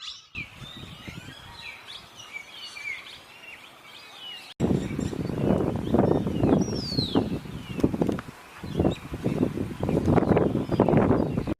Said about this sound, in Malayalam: കിളിയുടെ സൗണ്ട് നിങ്ങൾ കേട്ടല്ലോ എന്തെല്ലാം കിളികളാണ്